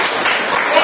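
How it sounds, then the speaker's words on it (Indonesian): A classroom of students applauds together, a dense, steady patter of many hands clapping at close range, with voices mixed in. "Tepuk tangan dulu tuh kita."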